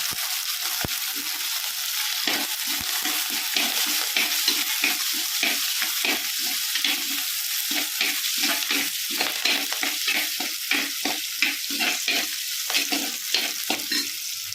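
Fish curry base sizzling in a pan with curry leaves while a spoon stirs it, a steady close hiss broken by rhythmic scraping strokes throughout the sardine curry.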